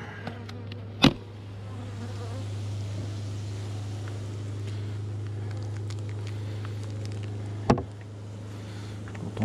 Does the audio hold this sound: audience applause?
no